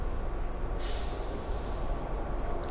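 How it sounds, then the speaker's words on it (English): Train pulling out of a station in Doom 3, a steady dense rumble with a sharp hissing burst partway through, loud and continuous, with no talk. "Train leaving station."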